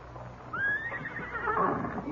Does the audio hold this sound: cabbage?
no